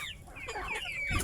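Heritage chickens cluck close by in a free-range yard, a steady run of short throaty clucks with a louder burst of fowl calls near the end.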